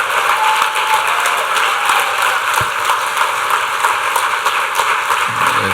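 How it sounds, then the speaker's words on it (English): Audience at an inclusion summit applauding after a performance, a steady dense wash of clapping that runs throughout without pause. "Let's have another round of applause."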